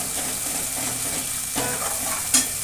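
Tomato masala sizzling in oil while being stirred for a mutton curry, an even hiss throughout with a light scrape near the middle and one brighter clink near the end.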